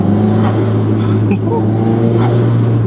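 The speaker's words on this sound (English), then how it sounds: "Ah, those turbo noises." From inside a tuned, lowered Ford Focus RS, the engine drones steadily and close, with faint turbo whooshes and whistles brief over the top.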